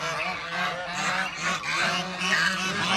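A flock of geese honks continuously, loud and close, with overlapping calls throughout and no pauses.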